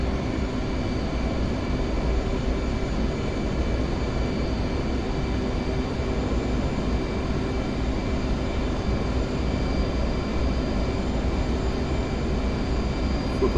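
Steady airliner-style engine roar holds through a flight simulator approach to a runway, throttle nudged up, a loud continuous drone with a low hum and faint tonal whine and no clear rise, alone without talk.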